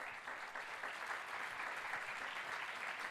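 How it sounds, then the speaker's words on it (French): A conference audience at a retail tech event gives steady, fairly faint applause with a continuous texture of many hands clapping. "je vous propose, c'est de les remercier et de les applaudir pour ce partage"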